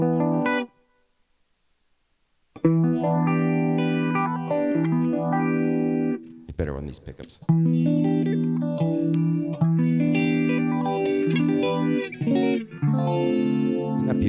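Electric guitar played through a 1970s MXR Phase 90 phaser pedal, sweeping whooshing phase shifts over strummed chords and melodic notes, loud and close, with a brief pause early on and a short spoken line.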